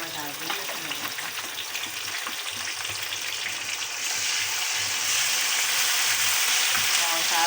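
Onions fry steadily in a pan for potato and capsicum curry, a dense continuous sizzle that swells a little louder halfway through, with no talk over it.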